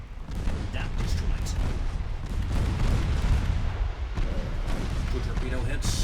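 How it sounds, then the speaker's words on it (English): Torpedo hits explode against a warship in the naval video game Ultimate Admiral: Dreadnoughts, producing dense, continuous rumbling booms and blasts that fill the whole stretch, with a voice talking over them. "2 torpedo hits on her, and she is done for."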